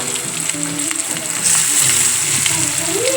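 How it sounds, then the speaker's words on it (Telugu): Onions hit hot oil in a pan for a prawn fry and sizzle loudly and steadily, a close, dense crackling hiss that swells slightly as stirring goes on. "ఆనియన్ వేసిన ఆనియన్ వేగాలి"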